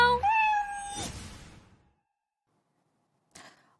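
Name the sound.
cat meowing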